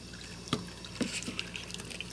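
Water drips and light splashes while a dog is rinsed off during a bath, with soft, sparse drops and small splashes heard close by at a low level.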